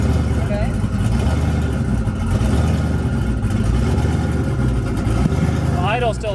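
A twin-turbo Mustang with a slightly rough idle runs close by in a steady, loud, uneven drone throughout, with people talking over it.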